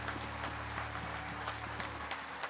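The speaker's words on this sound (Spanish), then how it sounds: "fuerte el aplauso" Faint, distant clapping from a church congregation during a sermon rises over a low electrical hum.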